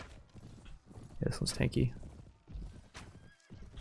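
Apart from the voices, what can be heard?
horse neighing and hooves in Mount & Blade video game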